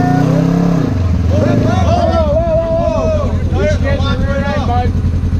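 A loud 2020 Polaris Scrambler 1000 S ATV engine drones steadily throughout with an aftermarket exhaust, its pitch rising and falling as it revs, with people talking over it nearby.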